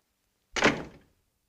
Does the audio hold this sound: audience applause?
no